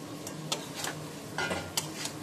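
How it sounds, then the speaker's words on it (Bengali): Potatoes and pointed gourd, fried beforehand, being stirred in a spiced masala in a pan for a Bengali prawn-and-potol dish, giving a run of scraping, clinking utensil strokes over a low sizzle. "খুব ভালো করে এটা নাড়াচাড়া করতে হবে, যাতে পুরো মশলাটা আলু পটলের মধ্যে ঢোকে"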